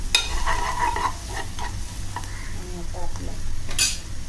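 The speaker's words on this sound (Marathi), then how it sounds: "कारलं छान परतून घ्यायचं आहे." Bitter gourd pieces sauté in a pan with Malvani masala and Kashmiri chili powder. A spoon scrapes and clinks against the pan over a soft steady sizzle, and someone speaks briefly.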